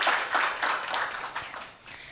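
An audience at a launch event and press briefing applauds after a song, with a burst of many hands clapping that is fairly close and lively at first, then eases slightly as it continues.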